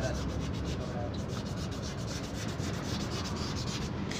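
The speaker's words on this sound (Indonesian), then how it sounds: "Ini sedang melakukan tahap pengamplasan" Steady, close rasping of sandpaper rubbed back and forth on a Mitsubishi Fuso truck's rear brake part, a continuous gritty scratching without pauses.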